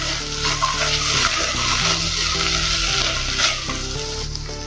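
Ketchup being stirred into Mexican rice frying in a pan gives a loud, steady sizzle with continuous scraping and stirring, over soft background music.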